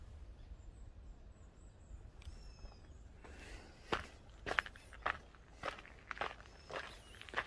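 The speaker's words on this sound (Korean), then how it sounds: "발자국 소리만 들리네요" Footsteps crunching along an unpaved dirt hill road in Da Lat, Vietnam, in the morning: a run of distinct, close steps in steady rhythm that grow firmer partway through, with faint birdsong and quiet outdoor ambience behind them.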